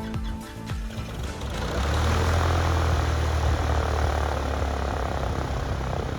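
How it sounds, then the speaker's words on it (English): A Piper Warrior II propeller plane's engine sputters and catches on its first start of the day, then settles into a loud, steady droning roar close by. "here we can see that the plane starts for the first time today"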